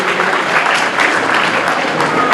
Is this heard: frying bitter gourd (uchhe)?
no